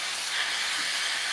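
Steam hiss from the wand of an espresso machine, either a Turin Gallatin or an El Rocio Manus S, set to 121 degrees; a steady, fairly loud broadband rush with no one talking.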